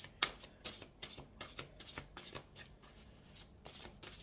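Oracle cards are shuffled by hand in a quick run of crisp, close riffling flicks, repeated rhythmically over a few seconds with no talk.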